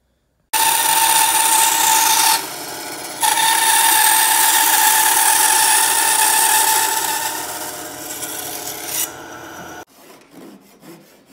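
A hand saw or chisel works wood for the vertical stabilizer of a Pietenpol Air Camper build, giving a steady, loud rasping scrape with one brief pause. It stops abruptly near the end, leaving faint handling noise.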